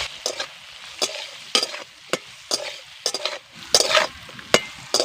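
Ingredients with salt and chili powder are stirred in a pan for a crab tok curry. Sharp, close spatula scrapes come in an uneven rhythm over a soft sizzle, with no talking.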